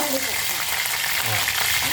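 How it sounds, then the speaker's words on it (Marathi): Loud, steady crackling sizzle of curry leaves dropped into hot oil with mustard and cumin seeds, filling the whole short stretch with dense frying noise. "आवाज आहे कढीपत्त्याचा टाकल्यावर भाजीला"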